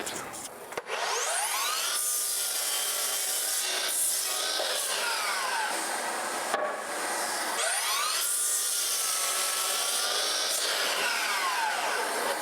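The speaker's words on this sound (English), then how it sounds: "we've just cut our header lumber right here" A saw cuts through wooden header lumber while a door opening is widened, with repeated loud, close cutting strokes that rise and fall in long passes.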